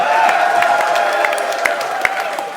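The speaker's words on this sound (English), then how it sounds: "Schmetzer's clapping over there." Crowd noise at a live show in Seattle, with a dense wash of audience clapping and some cheering that holds steady and fairly loud throughout, with a few sharper claps standing out.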